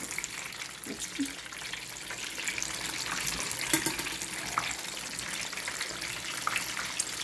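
Fish fries in a pan, a soft, steady sizzling hiss with faint bubbling and occasional light clinks, fairly quiet and continuous throughout.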